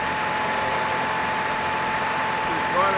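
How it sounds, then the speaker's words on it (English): A Generac Primepact 66G RV generator engine runs at a steady drone, loud and close, with an even mechanical hum and a faint whine throughout. "Running this is going to be a little loud, but I can start it up here."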